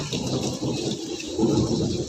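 A dense low rumble rolls under steady rain, with no voices, loud and close.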